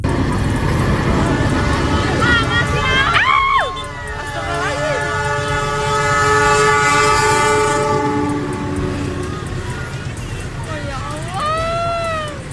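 A train rumbles through a railway crossing in Indonesia, with a loud horn blast early on, steady clatter of passing wagons, and voices shouting amid the noise.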